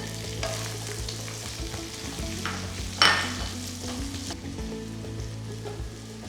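Fried onion tipped into a hot pan for a Kerala chicken pattichu varathathu, sizzling and crackling steadily throughout, with a sharp burst of stirring and spatula scrape near the middle.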